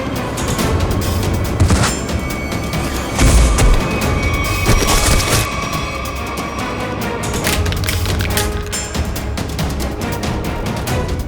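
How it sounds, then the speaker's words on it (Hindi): Gunshots fired in a Hindi TV crime drama scene, several loud booming shots and impacts spread across the clip amid dense, cluttered background sound. "हम लोग तो कबूतर पे गोली चला रहे थे सर"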